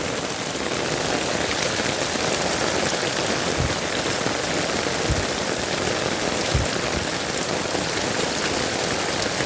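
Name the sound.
heavy rain pouring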